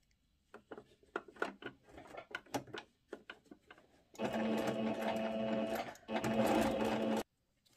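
A sewing machine stitches across the elastic waistband of a skirt, with handling clicks and fabric rustle first, then two loud, steady bursts of rapid close-up stitching with a short pause between.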